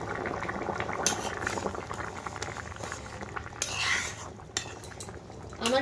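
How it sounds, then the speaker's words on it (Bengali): Fish and potato curry bubbles in a pot, a low continuous boil with scattered clinks of a utensil against the metal and a few stirring scrapes. "তরকারি কিন্তু বন্ধুরা ভালোভাবে ফুটে গেছে"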